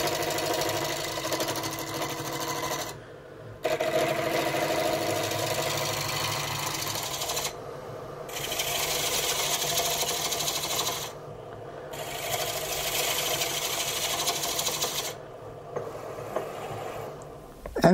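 A lathe turns wooden toy wheel rims mounted on a pen mandrel between bushings, giving a continuous rasping, scraping cut that stops briefly several times in a stop-start rhythm, loud and close.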